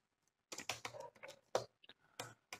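Clattering keystrokes on a computer keyboard come in quick, uneven bursts with short pauses between them, close and clear against near silence.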